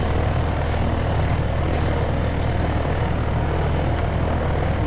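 A helicopter flies on a video game server, its rotor and engine drone a steady, loud, continuous hum that persists alone throughout.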